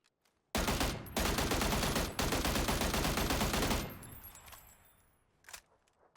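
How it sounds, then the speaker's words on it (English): AUG rifle in PUBG fired rapidly by tapping, a dense loud stream of close shots that runs for about three seconds, then a trailing echo fading away and one last faint report. "you're going to want to pick up the AUG. So they increased rate of fire by 200 rounds per minute"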